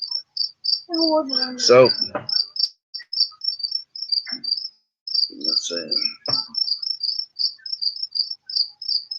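Crickets chirp loudly and steadily in close, rapid pulsed trills, with brief speech and a few short noises over them.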